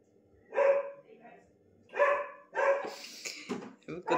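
Neighbourhood dogs bark in a residential street, a few sharp barks in quick bursts followed by yips and whimpers, fairly close and alone against a quiet background.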